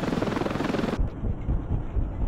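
A helicopter in Ravenfield flies with a steady, throbbing rotor drone, fairly loud and constant, its high engine whine cutting off partway while the chopping continues.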